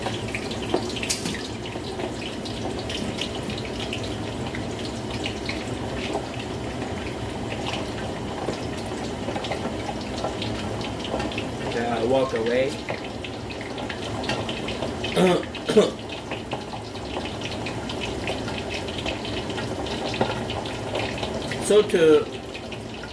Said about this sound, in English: It's splashing in there like crazy.